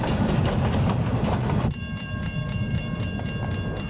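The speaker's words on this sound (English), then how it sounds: "There's a train coming." A train rumbles loudly along railroad tracks, with a steady roar and a rhythmic clickety-clack of wheels as it draws near, a sustained tonal whine joining in partway through.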